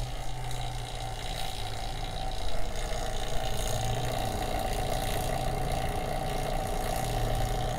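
A vacuum pump evacuates the AC system of an Acura RSX, a steady low mechanical hum and drone running throughout at constant level with no voices.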